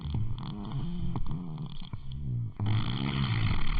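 Loud, rasping snores from a person asleep after a dinner at Chuck E. Cheese, several long rattling breaths in a row with a short pause in the middle, close and steady.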